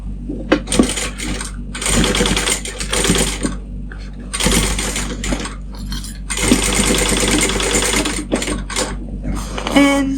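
A sewing machine stitches a seam on the outer fabric of a pouch, running in loud, close bursts of rapid mechanical whirring separated by brief pauses.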